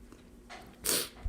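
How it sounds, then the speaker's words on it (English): One short, breathy sneeze burst nearby after a quieter sniff-like sound, with faint background noise. "About to sneeze again."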